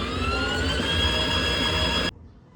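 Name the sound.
battery motorcycle started and running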